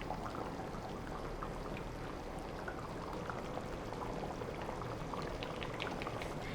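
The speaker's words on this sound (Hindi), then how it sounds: "इसमें मैं थोड़ा सा पानी और शामिल करूँगी ताकि ये पतला हो जाए।" Water is poured into a flour paste in a kitchen while cooking goat trotters, a steady soft trickle and bubbling liquid sound with no talking.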